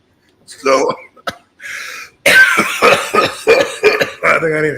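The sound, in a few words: person coughing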